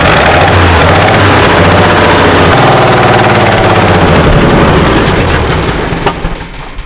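An old WWII-era Chevrolet truck engine, left sitting in a barn for decades, runs loud and rough with a ragged, pulsing rumble, then sputters and fades as it struggles to keep running.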